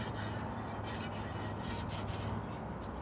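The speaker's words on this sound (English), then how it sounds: "we're just gonna whisk this for a minute, make sure it doesn't scorch." Cornstarch sauce whisked in a pan over low heat, a steady close scraping rasp of the whisk against the pan running continuously with no pauses and no talk.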